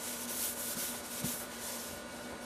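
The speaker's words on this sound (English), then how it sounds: "that's how long it takes for me to do the leveling, and that's 800 grit sandpaper" Steady abrasive rubbing of 800 grit sandpaper leveling a guitar body finished in Target Coatings EM6000, a continuous close scratchy hiss with a faint steady hum underneath and no talk.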